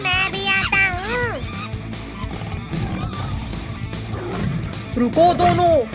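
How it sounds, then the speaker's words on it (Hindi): A lion's roar sounds in a comedy sketch, mixed with animated animal-like calls and rising, wavering cries, with people talking and exclaiming over it. "अरे भाई, ये तो शेर की आवाज है।"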